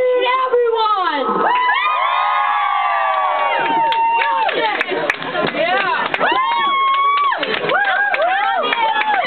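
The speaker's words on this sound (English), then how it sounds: "can everyone scream? I mean everyone!" A concert crowd at a show screams and cheers loudly and continuously, with many high shrieking voices, whoops and some clapping.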